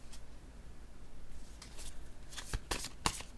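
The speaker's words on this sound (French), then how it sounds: "Attendez, je vais piger une autre carte." A card drawn from a deck: soft, quiet rustling at first, then several sharp papery snaps and flicks of cards close by near the end.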